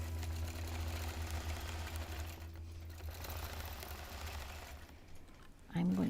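A long-arm quilting sewing machine stitching, a steady close mechanical whir with faint rhythmic ticking that runs throughout and shifts slightly near the end.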